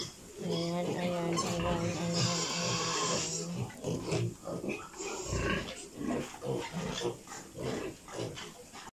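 Piglets on a pig farm, being moved to fattening pens, grunt and squeal in a busy, continuous chorus of overlapping calls, loud and close, with people talking now and then.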